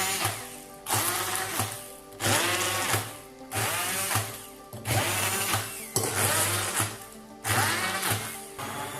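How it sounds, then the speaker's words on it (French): A kitchen blender chops washed bean leaves in repeated short pulses, with seven or eight loud whirring bursts separated by brief pauses, close and without any voice. "je vais laver mes feuilles et puis les passer au mixeur"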